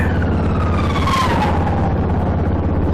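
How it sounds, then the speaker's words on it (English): A police siren wails over loud, steady traffic rumble, its pitch sweeping downward as the vehicle passes close by. "two more police cars going up in that direction."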